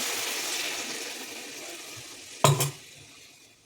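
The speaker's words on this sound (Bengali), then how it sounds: "কষানো হয়ে গেছে, এবার জল দিয়ে দেবো" Water is poured into a pan of spiced potatoes being cooked for a Bengali tangra fish curry, over a steady sizzle, with a sharp splashing hiss near the end before the frying settles back down.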